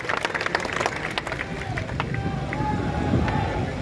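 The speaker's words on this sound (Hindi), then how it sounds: "एक बार जोरदार ताली बजाओ हमारे सिंधिया जी के" A crowd at a political rally claps hard for Scindia, a steady loud burst of applause mixed with crowd noise and babble throughout.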